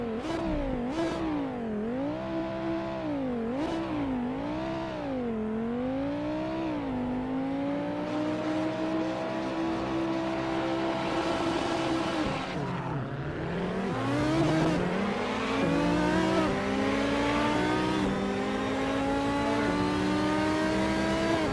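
Audi R8 LMS Ultra GT3 race car engines roaring at a race start on the Monza GP circuit in the Assetto Corsa racing game, rising and falling through a series of rapid upshifts, with a pack of cars revving alongside.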